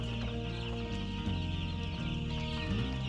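Chickens cluck steadily inside a broiler chicken house, a dense flock chattering close by with overlapping calls and no pauses.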